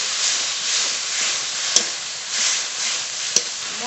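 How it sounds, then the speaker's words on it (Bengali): A spice paste of ground coriander, cumin, dried and green chilli with chopped tomato, salt and turmeric fries in a pan. It makes a loud, steady sizzle with gentle rolling stirring swells and two sharp clinks of the spoon on the pan. "মশলা খুব ভালো করে কষিয়ে নেব।"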